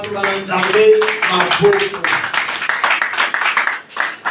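Church congregation clapping to acclaim the word of God during a Sunday service, a steady mass of hand claps with singing and voices mixed in underneath.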